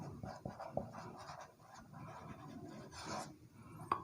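During a chemistry lecture, a marker or chalk moves across a board in quiet, scratchy strokes. Short bursts of writing and small taps come from close by in a faint room.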